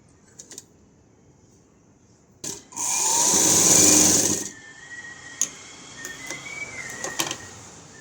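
A sewing machine stitching a lining blouse at the shoulder runs in one loud burst of about two seconds, framed by quieter clicks and fabric handling.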